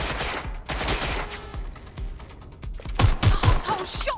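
Gunfire in the video game Watch Dogs Legion: bursts of rapid shots and a fusillade, growing louder and denser toward the end, with a faint voice at moments.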